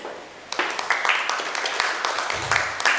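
Panel-discussion audience applauding the panelists at a retail talent-acquisition roundtable, a moderate spread of claps that builds from quiet to steady and fills the room for a few seconds.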